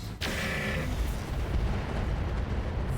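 Chaff launched from a mech in the BattleTech game RogueTech, a sharp burst at the start that gives way to a dense, sustained rumbling roar with crackling texture, loud and continuous with no voices.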